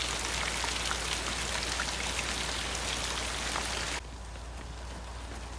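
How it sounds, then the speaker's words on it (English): Heavy rain from the 1960 film Psycho, a dense, loud downpour pattering constantly before dropping abruptly to a quieter, softer rainfall for the last second and a half. "I'm sorry I didn't hear you in all this rain."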